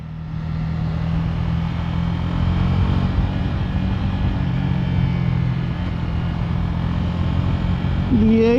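A motorcycle rides through a turn, its steady engine drone loud and close throughout, with continuous wind and road rumble and a brief rising tone near the end.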